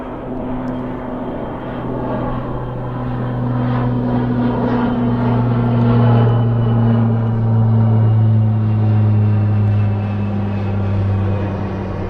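A Hercules aircraft flies high overhead, its propeller engines giving a loud, steady droning hum with low tonal throb that swells slightly and then eases over several seconds, with no talking.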